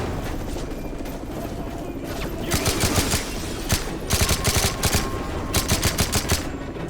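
Gunfire in Call of Duty Modern Warfare 3: steady background din that breaks into repeated rapid automatic bursts in the second half, sharp cracks clustered in quick volleys, fairly loud and close, with no talk.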